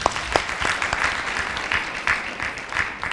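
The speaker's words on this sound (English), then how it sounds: "Let us clap for our university." An audience at a health conference in Uganda breaks into sustained applause, dense steady clapping from many hands filling the room, fairly loud and continuous throughout.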